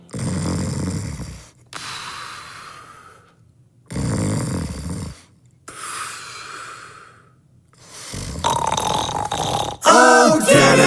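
A voice imitates a cat snoring: slow, exaggerated rasping inhales and wheezy exhales repeating in a loud, close rhythm, with a brief burst of sound at the end.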